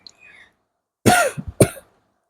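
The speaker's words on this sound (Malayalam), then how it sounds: "അതിൻ്റെ ഇടയ്ക്കിൽ ചുമ വന്നു" A pair of harsh, close coughs, the first followed by a short rough catch, then one more quick cough after a brief pause.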